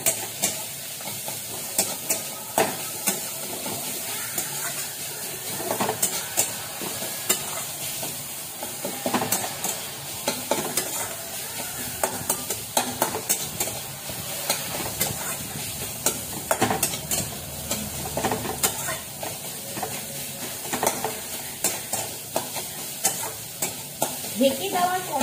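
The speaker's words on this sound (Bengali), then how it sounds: "তো আমার উচ্ছে ভাজাটা হয়ে গেছে মনে হচ্ছে।" Sliced bitter gourd frying in a pan, sizzling steadily while a spatula scrapes and stirs in an irregular, continuous rhythm, close up and alone without any talk throughout.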